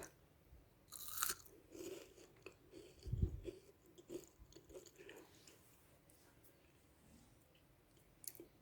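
Crunchy homemade keto fries being chewed close to the mic, a few sharp crisp bites followed by softer irregular munching over several seconds against a quiet background, with no talking.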